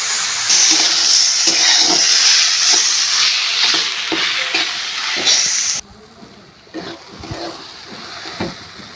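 Ash gourd sizzles loudly as it fries in a pan with turmeric, and a spatula stirs it in steady scraping strokes. The hiss drops sharply partway through, and quieter stirring and frying continue.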